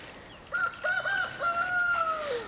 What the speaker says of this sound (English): That rooster's just a crowing.